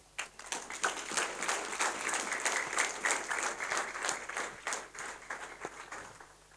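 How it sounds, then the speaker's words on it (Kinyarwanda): A church congregation claps for God in sustained applause, many hands beating in a fairly steady, rhythmic pattern, moderately loud and close, with no talk over it. "Mukomere Imana amashyi"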